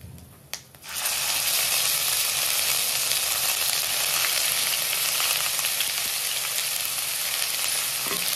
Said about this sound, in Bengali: এবার আমি দিয়ে দিচ্ছি পেঁয়াজ, আদা, রসুন বাটা।